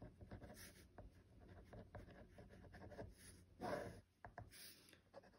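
A pencil scratches across paper in quick, uneven strokes, faint and close, with short pauses between bursts of writing and no talking.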